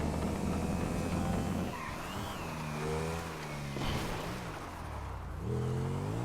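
A car driven through snow in the video game GTA Online, with a steady engine drone and rising and falling revs as gears shift, close and continuous throughout.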